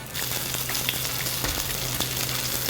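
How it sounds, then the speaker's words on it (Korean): Tuna kimchi balls fry gently in olive oil in a frying pan over low heat, a steady close sizzle and crackle with occasional small pops, no voices. "이거를 하나씩 약간 노릇노릇하게 구워줄 거예요"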